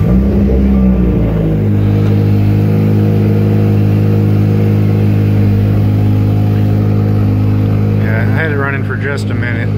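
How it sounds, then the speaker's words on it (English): A turbocharged car engine idles high on a cold start at night, a loud steady drone with a constant low hum and a slight shift near the start. "Just a minute, so it's still cold and on high idle."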